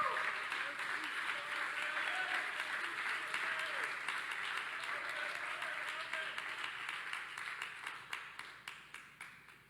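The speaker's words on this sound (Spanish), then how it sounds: "De una ofrenda de palmas al Señor esta preciosa hora." Congregation in a church applauding together, a dense, sustained wash of clapping that carries on for several seconds and thins out toward the end into a few scattered, fading claps.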